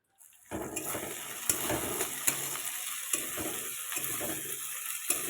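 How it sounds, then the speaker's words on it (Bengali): Onion with ginger-garlic paste sautéing in a pan, a steady close sizzle with scraping stir strokes recurring every second or so, starting abruptly after a brief quiet moment. "আদা রসুন বাটা দেওয়ার পরে কিছুক্ষণ ভালো করে কষে নিতে হবে"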